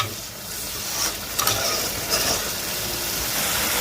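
Continuous crackling sizzle of spices frying in a hot pan, with occasional scraping stirs and clinks close up.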